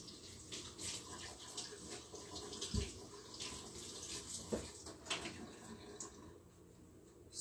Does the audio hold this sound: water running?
yes